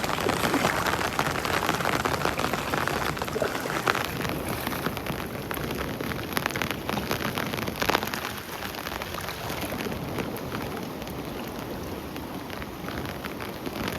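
Heavy rain pours steadily and loudly throughout, a dense continuous hiss of drops with wind gusting through it and no voices.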